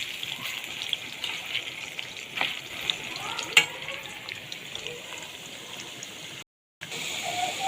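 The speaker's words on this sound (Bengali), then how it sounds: "শুধু নুন দিয়েই আলুগুলোকে ভালো করে ভেজে নিতে হবে।" Potatoes sizzle steadily in hot oil with only salt, a continuous crackling fry with a few sharper spatters and stirring scrapes, broken by a brief silent gap near the end.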